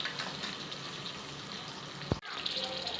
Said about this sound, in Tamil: நல்லா ஃப்ரை ஆகட்டும் கோல்டன் ப்ரௌன் ஆகட்டும்